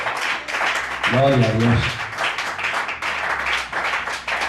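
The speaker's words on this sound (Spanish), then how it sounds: "Denle un fuerte aplauso a Dios." A church congregation clapping after a sermon prayer, a dense continuous patter of many hands throughout, mixed with a preacher's loud voice and short sung or shouted phrases.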